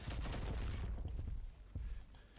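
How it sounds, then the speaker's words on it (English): Video game match with a dense burst of gunfire and explosive grenade blasts, loud rumbling shots packed together at the start and thinning into scattered bangs. "getting multiple eliminations with grenades and gunfire"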